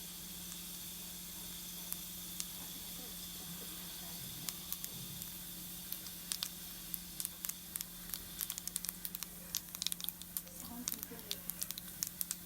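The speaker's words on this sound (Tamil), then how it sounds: "கடுகு வெடிச்சிருச்சுங்க." Mustard seeds crackle and pop in hot oil while cooking moong bean dal, with scattered sharp clicks that grow quicker and denser over a low steady hum.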